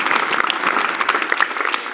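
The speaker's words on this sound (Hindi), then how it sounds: "एक बार तालियां उस तनिष्का" Steady, dense applause from a large audience fills the room for a student who topped India's NEET exam, clapping close and continuous without pause.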